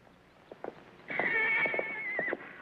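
An old horse in a Western frontier setting gives one loud, drawn-out neigh lasting over a second, preceded by a few soft hoof thumps and knocks.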